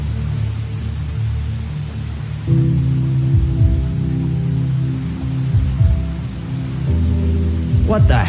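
Steady rain falling outdoors, a continuous hiss with a low droning hum and tonal background layers.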